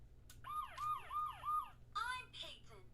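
A toy police car gives out an electronic siren: a quick run of four rising-and-falling wails, then a short burst of another siren tone, with faint voices in the background.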